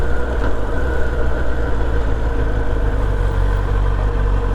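A Kawasaki ZX-10R 2026 motorcycle engine idling at a stop, a steady low rumble that stays even and fairly loud, with no voices over it.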